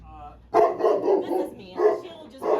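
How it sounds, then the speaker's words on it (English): A dog at a customer's home barks in a run of loud, close, repeated barks during an HVAC service call. "Beautiful dog."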